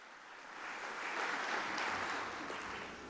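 A graduation ceremony audience claps steadily for the graduates, a broad sustained wash of applause that swells toward the middle and eases slightly near the end, with no talking over it.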